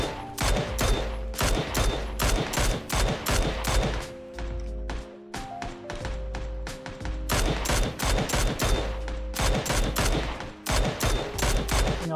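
Video game gunfire in loud rapid automatic bursts, close and continuous, broken by a short lull partway through before the shooting starts again, with no talk over it.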